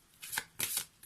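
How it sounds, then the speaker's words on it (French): Tarot cards being shuffled and drawn by hand, heard as two close, crisp riffling bursts followed by the start of a third, with no talking. "on va prendre une dernière carte ici de la magie de la vie"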